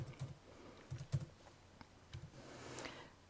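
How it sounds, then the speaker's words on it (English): Date being typed on a computer keyboard, a few faint, close clicky keystrokes in short bursts, quiet and alone. "so I'm going to type a different date in here"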